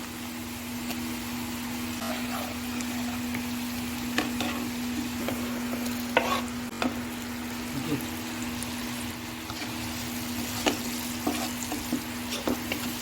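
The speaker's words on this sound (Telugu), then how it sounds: "ఈ రెండు టమాటాలు కూడా దీంట్లో వేసేసాను ఉల్లిపాయలు వేగినాయి కదా టమాటా వేసాను" Onions and tomatoes fry with turmeric and salt in a pan for a chicken curry, giving a steady close sizzle with occasional stirring scrapes and clicks throughout, and faint speech at times.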